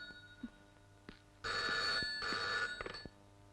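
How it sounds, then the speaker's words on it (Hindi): A telephone bell rings indoors in two long bursts after faint knocks, clear and fairly close, with no voices. "Madam phone."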